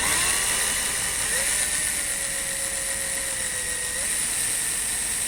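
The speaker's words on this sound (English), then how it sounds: "We're going to drill both of these posts." A drill whines at a sustained high pitch, its motor note dipping and holding steady as it bites into posts on a 2018 Chevy Camaro SS build, loud and close.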